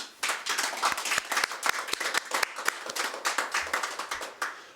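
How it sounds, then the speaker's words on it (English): An audience at an ice hockey league announcement claps to welcome a new team, a brisk burst of many hands with sharp individual claps standing out, fairly close and lasting several seconds. "Please join me in an applause and welcome of the Woodstock Navy Vets."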